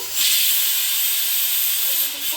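Tomato with salt frying in a pan for massoppu saaru, a loud close hiss of oil and steam that holds steady for about two seconds, with no talking.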